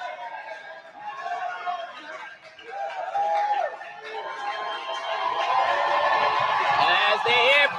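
A basketball crowd at a college game between the Voorhees Tigers and the Truett McConnell Bears murmurs and cheers, building to a louder, sustained roar by the end, with whoops and voices mixed in.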